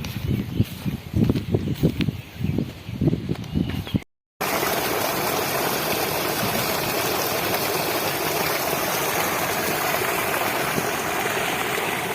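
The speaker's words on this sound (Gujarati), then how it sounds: "ઉપરથી અહીંયાથી આવે છે પાણી, આ બાજુ જાય છે" Water runs steadily through a farm irrigation channel beside cotton and guar fields, a continuous close rushing flow that follows a burst of brief talk and a short silent gap.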